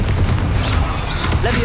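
In the Hogwarts Legacy video game, a Confringo spell blast lands as a loud, deep, rumbling boom, followed by a continuous explosive roar with crackling high-end debris.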